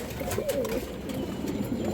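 Silver pigeons, including a short-beaked silver male, coo in low, rolling phrases close by, a soft continuous murmur of several birds filling the moment.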